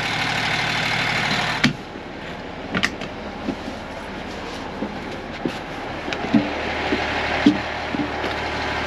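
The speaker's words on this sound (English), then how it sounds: "The engine has been running for a long time." A running engine idles with a steady, even rumble, broken by a few faint clicks and taps, with no voices.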